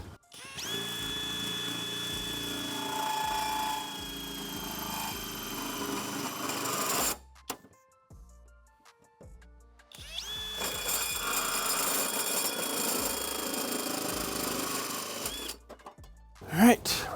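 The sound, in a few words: drill cutting through plastic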